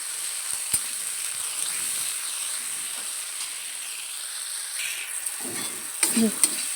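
Tomato frying with whole spices in a kadai wok while being stirred, a faint steady hiss with soft scraping, then a few louder spatula scrapes near the end.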